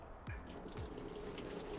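Liquid lawn fertilizer being poured into a backpack sprayer tank, heard as a quiet splashing trickle with a couple of brief gurgling glugs near the start.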